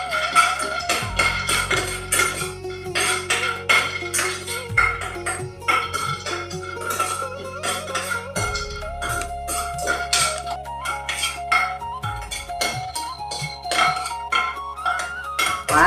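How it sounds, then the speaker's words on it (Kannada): Almonds roasting in a frying pan, stirred with a metal utensil that scrapes and clinks against the pan in quick, irregular taps and rattles, close and fairly loud, with a low steady hum behind. "ಇದನ್ನು ಕೂಡ ಈಗ ಬಾಣಲೆಯಲ್ಲಿ ಹಾಕಿ ಹುರಿತಿದ್ದೀನಿ"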